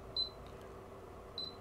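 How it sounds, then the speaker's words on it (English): A fan answers an Arduino infrared remote signal with two short, high electronic beeps about a second apart, faint and clean over quiet background hiss. "Now you can hear a beeping because that is in fact the fan responding now to the Arduino"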